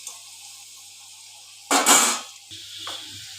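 Potato pieces frying in oil in a pan for prawn malai curry, a quiet background hiss broken by a loud sizzling burst as they are stirred, then a softer sizzle with light clinks.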